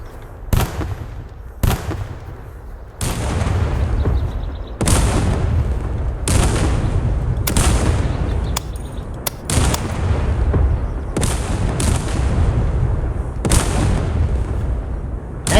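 Mortar and gunfire in the video game Dagger Directive, a series of sharp booming blasts spaced a second or two apart over a constant rumbling battle background.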